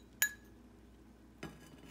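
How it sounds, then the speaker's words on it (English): A fork works a macaroni and cheese mixture with jalapeno in a dish, making two sharp, separate clinks about a second apart over a quiet background. "I'm going to take my mixture of macaroni and cheese with jalapeno, and I'm going to fork it"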